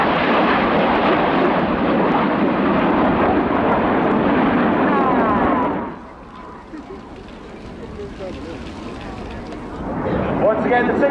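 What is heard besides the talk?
Red Arrows jet aircraft flying display manoeuvre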